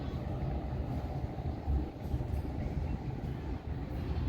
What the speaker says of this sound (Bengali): সামনে বালি থেকে কট বর্ধমান যাওয়ার ট্রেন রুট আছে। দেখুন, ট্রেন যাচ্ছে।